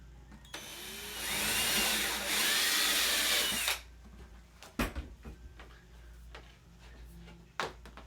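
A power drill with a variable step bit bores through metal in one steady whining run of about three seconds, followed by a few sharp clanks and knocks as the tool is set down.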